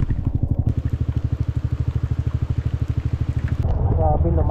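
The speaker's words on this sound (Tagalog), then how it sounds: "lumakas yung ulan" Heavy rain pouring down at a hilltop during an outing, heard as a steady hiss under a loud, rapid rhythmic motor-like pulsing, then turning to a broader wash of rainfall near the end.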